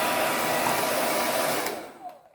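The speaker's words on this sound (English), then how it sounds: "And once again, blow dry here." Hair dryer blowing steadily on its maximum setting, a loud continuous broadband rush that carries on alone and then fades out near the end.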